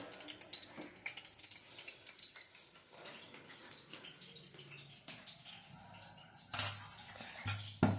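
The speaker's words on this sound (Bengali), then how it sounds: "বলটা আমি আগে সরিয়ে নিই" Dishes and cutlery clink faintly in a home kitchen as a bowl is shifted aside during cooking, with a sharper knock and scrape near the end over a low background hum.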